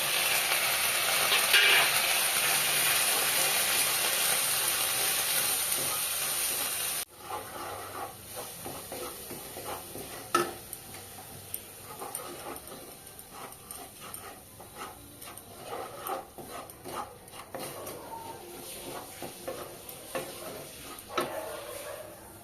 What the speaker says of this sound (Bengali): মশলাগুলো আমি ফেলে দিলাম দিয়ে ভালো করে কষিয়ে নেবো